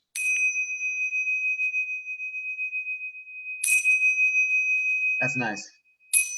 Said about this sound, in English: Also, having chimes like this